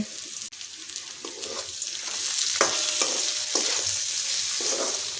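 Vegetables for chicken chowmein sizzle steadily in a hot pan, with repeated stirring scrapes and clanks rising over the constant frying hiss; no one talks.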